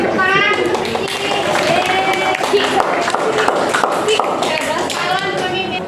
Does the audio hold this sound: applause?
yes